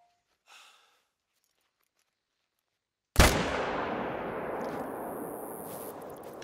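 A single loud rifle shot in the hunting game theHunter: Call of the Wild after a few seconds of near silence, followed by a long rolling echo fading away.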